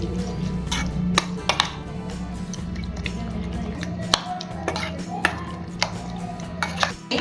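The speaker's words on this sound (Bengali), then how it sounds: "আদা রসুন বাটাটা দিয়ে চিকেনটাকে ভালোভাবে মিক্সড করে নিচ্ছি" Chicken being worked together with ginger-garlic paste in a bowl gives soft, wet squishing and dripping sounds, with a few light clinks scattered throughout over a steady low background hum.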